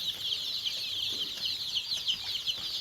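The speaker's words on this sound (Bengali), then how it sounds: "টাইগার মুরগির পাশাপাশি যেগুলো দেখছেন কালো মুরগি, এগুলো হচ্ছে মিশরীয় ফাউমি মুরগি" A flock of young Tiger and black Egyptian Fayoumi chickens cheeps and chirps continuously on a farm, a dense, busy chorus of many birds close by with no voices.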